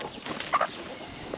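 Backyard chickens cluck in a garden during spring cleanup, giving a short burst of two or three close clucks over faint outdoor ambience.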